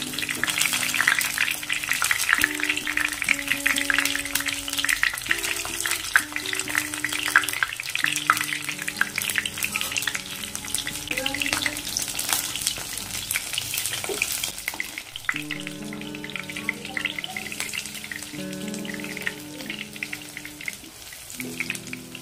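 Pumpkin flower fritters crackle and sizzle steadily as they fry in hot oil, sprinkled with sesame seeds, a dense bright hiss that runs throughout with soft background music.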